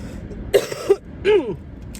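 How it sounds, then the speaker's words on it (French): Two close, sharp coughs a moment apart, with a faint steady background hum. "Attention, je vais tousser."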